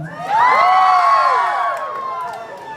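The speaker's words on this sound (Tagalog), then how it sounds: "Wala po bang hiyawan dyan?" A crowd at an evening show erupts in loud cheering, shouting and whooping that swells quickly, holds for about a second, then tapers off.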